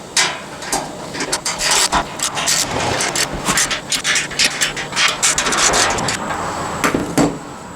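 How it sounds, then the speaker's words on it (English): Bolts on a motorcycle hitch carrier for a Jeep Wrangler are run down with a ratchet, giving rapid, close metallic clicking and scraping in repeated bursts, fairly loud and continuous with no talk. "We'll run these down to tighten this up."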